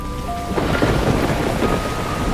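Heavy rain pours steadily with a deep rumble of thunder underneath, a dense continuous wash of sound with no voices.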